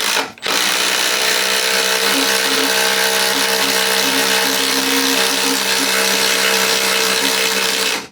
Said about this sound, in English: I drill through wood all the time with an impact